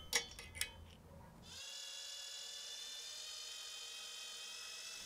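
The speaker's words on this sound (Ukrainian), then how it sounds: "Свердлимо отвір." A few clicks and taps, then a small high-pitched drill whines steadily and close, drilling a hole in a brass tube for several seconds.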